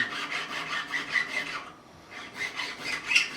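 Hand file rasping along fret-end bevels on a Music Man Silhouette guitar during a refret, steady back-and-forth strokes in a close, regular rhythm with a brief pause midway.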